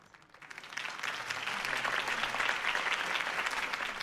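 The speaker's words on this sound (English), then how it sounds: "could have heard that applause" A crowd in the video game Telltale's Batman bursts into sustained applause after a campaign speech, many hands clapping densely and steadily, rising quickly after a quiet start and holding loud to the end.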